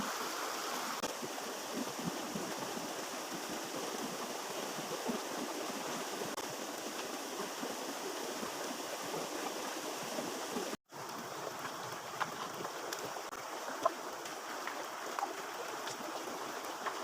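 A countryside stream in the Philippines flows over rocks, a steady, close, full rushing babble that continues evenly throughout with no voices.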